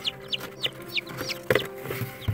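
Black silkie chicks about six or seven days old peep close by, giving a quick run of high, thin, repeating chirps with a few soft low bumps between them and no voices.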